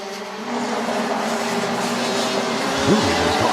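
Senior MAX racing karts at an Asian international trophy race drive through the opening turns, their engines making a steady, continuous drone with a rising whine near the end.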